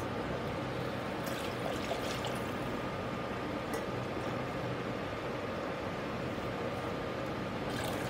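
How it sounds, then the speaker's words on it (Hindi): Milk is poured from a cup into a pan of water on a stove, a steady soft liquid stream running continuously without talk. "और दो कप हम दूध डालेंगे।"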